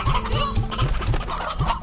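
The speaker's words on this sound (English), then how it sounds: "That is a lot of chickens." Chickens clucking in the Slime Rancher video game, a flock of repeated short clucks at a steady rhythm, close and fairly loud, with no talking over them.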